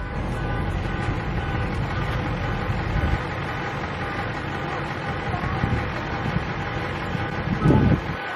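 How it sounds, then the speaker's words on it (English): Strong wind roars and buffets the microphone in a constant low rumble, with no one speaking. "It's so windy today."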